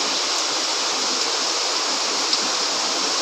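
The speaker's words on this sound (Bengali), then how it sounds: "দেখুন বাইরে কি পরিমাণ বৃষ্টি যে হচ্ছে" Heavy rain pours steadily outside by a balcony, a dense, even hiss of falling water with no breaks, close and loud, with no voices.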